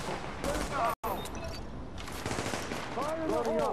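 Rapid bursts of gunfire in The Division's Dark Zone, with repeated automatic shots and sharp cracks scattered across the moment, mixed with game sounds and a player's voice.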